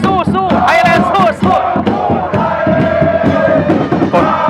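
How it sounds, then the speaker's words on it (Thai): A large crowd of fans cheers and chants together for the Thai national football team in a match against Vietnam. The voices are loud, dense and rhythmic, with shouted calls rising over the roar. "ตอนนี้กำลังเชียร์กำลังชมกันอยู่ครับ"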